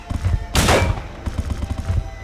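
Gunfire in the survival horror game Silent Hill 2, a sharp loud shot followed by a burst of rapid repeated reports over a low rumbling game backdrop.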